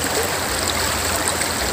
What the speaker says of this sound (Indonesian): suasana di sungai dengan cara memancing